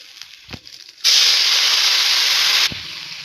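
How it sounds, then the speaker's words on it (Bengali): Hot water poured into rice frying in a pot for carrot pulao sets off a sudden, loud, steady hiss that lasts about one and a half seconds and then stops. "এবার এর মধ্যে দিয়ে দিচ্ছি গরম জল।"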